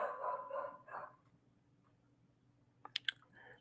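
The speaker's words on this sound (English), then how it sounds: "my dog is gonna like just bark until his head falls off" A dog barks indoors, faint and distant, with a few short sharp barks near the end after a quiet stretch.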